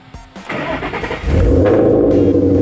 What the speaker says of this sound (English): let me fire the Mustang up real quick